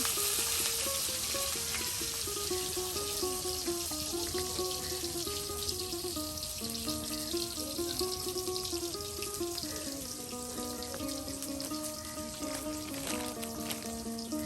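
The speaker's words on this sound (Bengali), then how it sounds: "এই যে কলাগুলো এখন ভেজে নেওয়া হচ্ছে।" Raw bananas fry in hot oil in a village-style kitchen, giving a steady, continuous sizzle with bubbling texture throughout, close and fairly loud. Some faint tonal background sound runs underneath.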